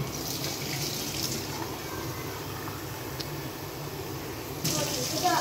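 Water runs and splashes steadily into a strainer, a continuous close pouring hiss with a louder splash toward the end.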